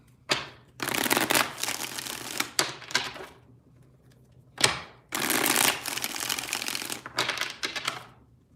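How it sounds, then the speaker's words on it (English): Tarot cards shuffled by hand in several bursts of crisp riffling and flapping, close and fairly loud, with short pauses between each round and no voice over them. "Let's get 3 shuffles here."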